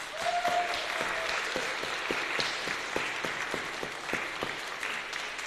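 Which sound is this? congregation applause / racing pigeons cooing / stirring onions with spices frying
congregation applause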